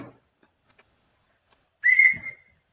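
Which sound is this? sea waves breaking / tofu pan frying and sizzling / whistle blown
whistle blown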